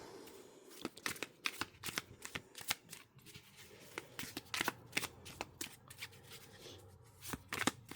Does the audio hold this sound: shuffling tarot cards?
yes